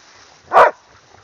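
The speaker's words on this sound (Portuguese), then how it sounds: "Mais um cachorro!" A single sharp dog bark rings out close by, short and loud against a quiet outdoor background.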